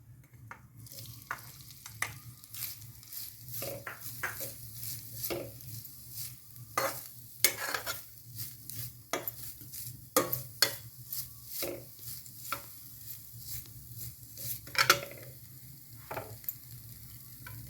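Grated coconut and jaggery are stirred in a frying pan with raisins, a spoon scraping and clinking in irregular bursts over a faint, steady sizzle, close by with no talk.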